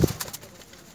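Pigeons of a high flyer breed give a brief low soft coo, close, in a very short fragment with no speech.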